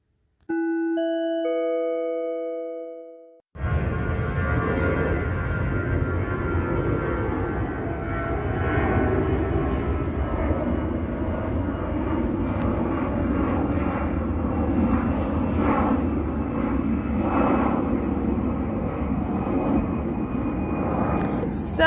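Aircraft engine drone from planes flying overhead, a steady loud rumble that carries through the whole stretch after a short electronic chime at the start.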